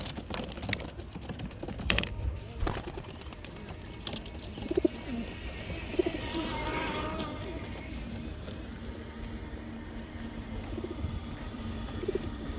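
Soft cooing from racing pigeons repeats now and then over a steady low hum, with some faint clicks and tapping nearby.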